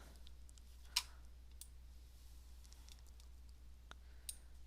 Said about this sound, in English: So I'm going to click on it.